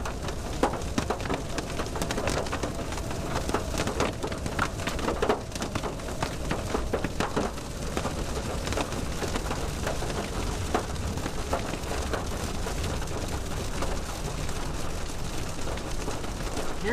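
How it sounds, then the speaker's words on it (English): Large hail pelts down hard during an evening thunderstorm, a dense, continuous clatter of impacts that stays loud and steady throughout with no voices. "Hearing some large hail."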